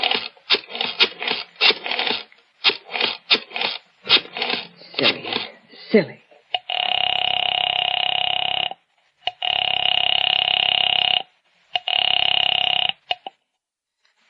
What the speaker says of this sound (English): went to the phone and dialed